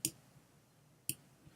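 Two crisp mouse clicks in Photoshop, pressing OK, spaced about a second apart against a quiet room background.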